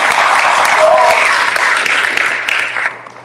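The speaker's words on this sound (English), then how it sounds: "Let's give him a round of applause." Applause from a small audience at a candidates' meet-and-greet hosted in a private home, steady and close, fading out over about three seconds.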